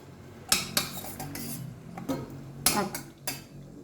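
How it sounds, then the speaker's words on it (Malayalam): Cooked tomatoes are dropped into a mixer jar, giving a handful of distinct hard clinks and knocks against the jar, irregularly spaced and close, with soft handling noise between. "തക്കാളി എടുത്ത് ജാറിലോട്ട് ഇട്ട് കൊടുക്കാം"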